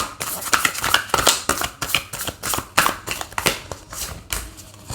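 Repeated quick papery riffles and soft slaps of tarot cards being shuffled by hand, close up, in an uneven rhythm.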